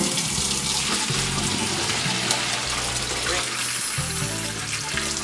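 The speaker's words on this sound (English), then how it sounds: "the key to not making your noodles stick is rinse them in cold water." Cold tap water runs steadily over cooked pasta noodles in a kitchen strainer, a loud continuous splashing rush with background music underneath.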